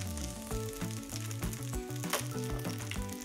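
Fried rice sizzling on a tabletop hot plate as it is mixed, a quiet steady crackle beneath prominent melodic background music, with occasional spatula scrapes.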